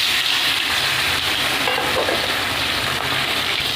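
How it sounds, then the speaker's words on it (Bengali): Small puti fish sizzle in hot oil in a wok for a Bengali pumpkin fish curry, a steady dense crackle that stays close and loud throughout, with no voices. "এবার মাছগুলো ভেজে নেব।"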